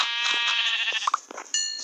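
A pink sheep in a video game bleats in a wavering, buzzy tone, with a couple of short blips partway through and a brief electronic tone near the end, clear and close with no speech.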